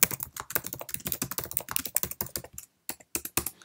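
Rapid typing on a Mac keyboard while composing an email in Microsoft Outlook, a close, crisp run of key clicks in uneven bursts with one brief pause near the end, no talking.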